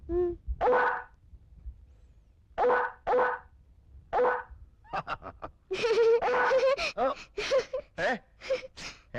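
A person imitates a dog with a run of barks and yips, close and loud, in uneven bursts with short pauses between them.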